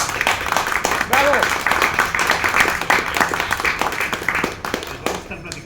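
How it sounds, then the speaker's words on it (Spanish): A crowd applauds the winner at a national short-story prize ceremony, scattered claps running steadily under talk and background voices before gradually thinning out. "les pido un aplauso para la ganadora"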